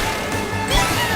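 A kart in Mario Kart World slams into a fence, a sharp crash and thwack with a heavy impact midway through, loud and close over engine and game noise.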